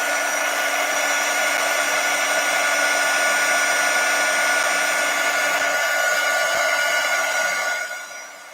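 A heat tool blows steadily over damp craft paper, a constant loud whooshing hum that runs unbroken for several seconds and then tapers off as it is switched down.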